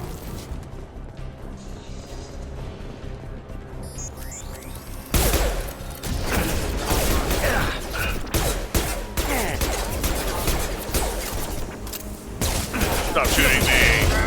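Gunfire during a firefight in the video game Mass Effect Legendary Edition: after a quieter opening, dense bursts of rapid shots and impacts crackle loudly and continuously, with brief pauses between volleys.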